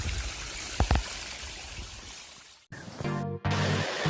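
A stream of water trickles and splashes continuously on a hill trail to Athirimalai, with a couple of brief knocks and an abrupt cut partway through.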